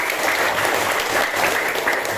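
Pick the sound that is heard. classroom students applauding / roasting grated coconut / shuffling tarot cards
classroom students applauding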